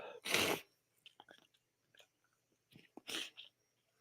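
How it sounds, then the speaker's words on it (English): Sharp, breathy bursts of sneezing by a man indoors in a home basement, two loud explosive sneezes with faint snuffles and breaths between them, close and alone. "I am sneezing like crazy."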